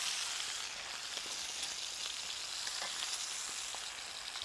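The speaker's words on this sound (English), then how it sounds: "I think my steaks are basically cooked enough now." Steaks frying in a pan, a continuous soft hiss and crackle of sizzling fat, steady and fairly quiet with no voices.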